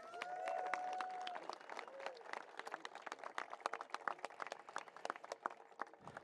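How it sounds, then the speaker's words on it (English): A thin round of scattered clapping from a small outdoor crowd at a mall groundbreaking ceremony, uneven individual claps with a bird or voice chirp early on, fading out near the end. "Let's give our community voices another round of applause"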